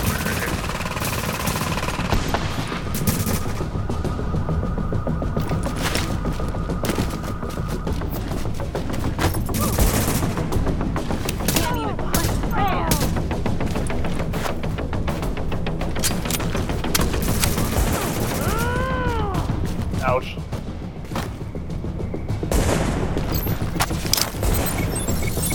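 Dense gunfire and sharp sniper shots in The Division at Times Square, with continuous loud automatic bursts and cracks, occasional booms and crashes, and a few voices talking underneath.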